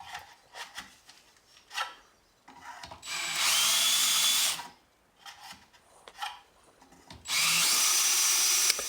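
A power drill reams tip holes in wood for a continuo organ, two sustained loud bursts of whirring and grinding separated by quieter scraping and handling knocks.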